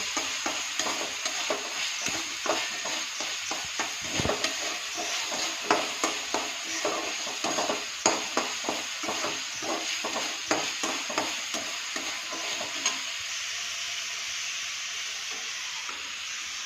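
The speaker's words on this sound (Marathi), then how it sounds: "हे सर्व मिश्रण चांगले लाल परतून घ्यायचे आहे" A dal and spice mixture being stir-fried in a pan until it turns red, heard as a steady close sizzle with a quick, regular series of spoon scrapes and stirs that ease off near the end.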